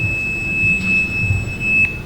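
At a conference talk on phishing, a phone gives a steady high electronic tone that holds continuously, loud and close, over a low room rumble.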